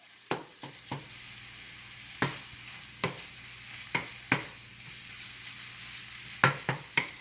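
Ground meat browns in a pan for a homemade pizza, a faint low sizzle beneath a series of sharp spatula scrapes and taps spaced irregularly, no voices.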